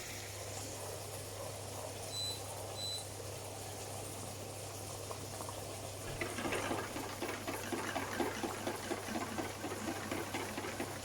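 Water boils in a pot for poaching an egg, a low hiss that swells after a few seconds into rapid, busy bubbling and patter, with a steady hum underneath and no speech.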